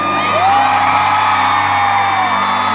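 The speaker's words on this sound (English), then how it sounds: "Let's hear you all screaming." A packed arena crowd at a pop concert in Dubai's Coca-Cola Arena screams and whoops in one loud, sustained roar that holds steady for several seconds, with one high cheer rising above the mass.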